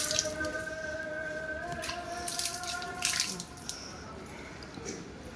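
Water poured by hand over a newly planted plant, a steady splashing trickle with light dripping, close by, easing off partway through.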